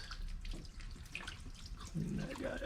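Fresh running tap water rinses a cut-apart Bell intercooler, a steady close hiss and splash that continues throughout and gets a little louder near the end.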